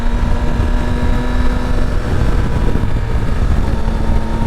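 A 2022 Yamaha Tracer 9 GT motorcycle being ridden, its engine a steady loud drone with rushing wind noise, constant and close with a slight pitch shift midway.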